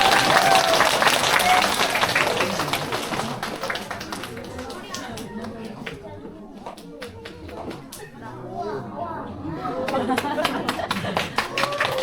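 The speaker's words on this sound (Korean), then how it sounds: "이렇게 또 좋은 선물을 준비해 주신 원장님께 큰 박수 한번 보내주시기 바랍니다" Audience applause at a kindergarten graduation ceremony in an indoor hall, a dense, sustained wash of many hands clapping for the whole stretch, loud at the start, easing in the middle and swelling again near the end, with voices mixed in.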